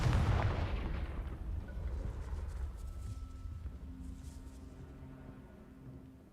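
The Confringo explosion spell in a Harry Potter video game sets off a loud, booming blast that fades over several seconds into a faint rumble and a low hum.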